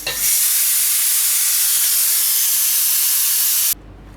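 Loud, steady rush of steam hissing from a pressure cooker of lentil dal being released, broad and continuous for about three and a half seconds before cutting off abruptly, with no talk.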